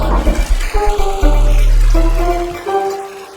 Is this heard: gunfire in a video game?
no